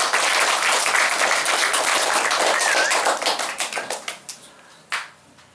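An audience in a language lesson applauds loudly and steadily, the clapping thinning into scattered claps before one last brief burst.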